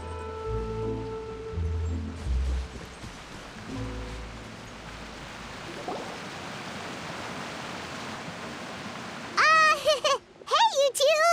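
Rain falls in the video game Genshin Impact as a soft, even hiss that settles in after some low game sounds. A voice speaks near the end.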